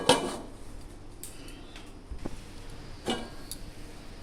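A lid goes onto a pan of egg paratha with a sharp metallic clink, followed by a few faint ticks and taps of kitchenware over a quiet background.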